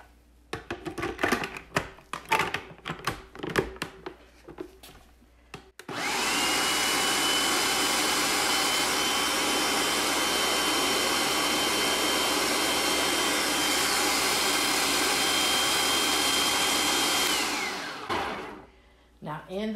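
After some clattering handling noises, a food processor blade purees food in a loud, steady whir that holds for about eleven seconds, then winds down and stops.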